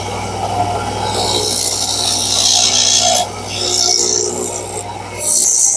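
A machine shaping wood into a pestle rod for grinding, producing a loud continuous rasping whir close by that briefly dips and returns several times, with no talk.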